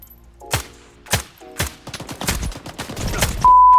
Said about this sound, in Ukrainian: Ви всі трохи по мене стріляєте